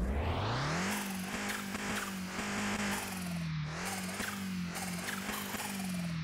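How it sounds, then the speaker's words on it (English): A tuned Nissan Skyline R31 in Car Mechanic Simulator 2021 revs hard, its engine note climbing and holding steady with a high turbo whistle over the top, loud and continuous with no talking. "Absolutely love that turbo whistle."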